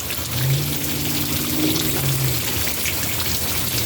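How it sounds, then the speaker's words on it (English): Light rain falls steadily as a dense patter of drops on a surface, with a faint tonal hum in the background. "And of course the rain's already stopping."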